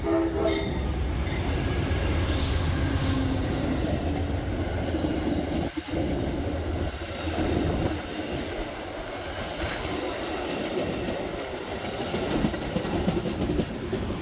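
An Amtrak train passes through Lakeland station in Florida, a continuous rolling rumble with rail clatter that holds steady throughout, heard alone without talk.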